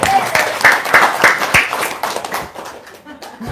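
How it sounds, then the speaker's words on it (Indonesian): An audience claps in a short burst that peaks early and thins out over a few seconds, with talk and murmuring mixed in. "Tepuk tangan dong."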